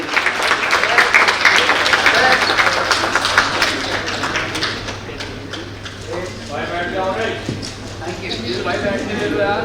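An audience at a memento presentation ceremony gives sustained, rhythmic applause, many hands clapping steadily for several seconds before it thins toward the end.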